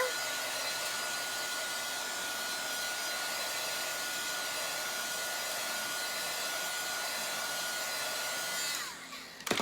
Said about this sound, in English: So I'm just going to hit it with my dryer here.